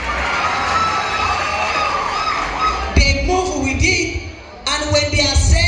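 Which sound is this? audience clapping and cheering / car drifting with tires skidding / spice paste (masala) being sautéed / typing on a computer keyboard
audience clapping and cheering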